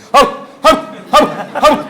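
A human voice imitates a dog barking, giving four short, loud, evenly spaced woofs close to the listener.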